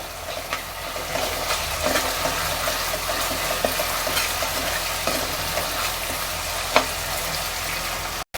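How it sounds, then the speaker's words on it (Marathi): Ginger-garlic paste for pav bhaji sautés in a pan with a close, steady sizzle and occasional light stirring scrapes that rise briefly above the frying. "दोन चमचे आलं लसूण दोन चमचे टाकले आता ते जरा परतून घेऊया"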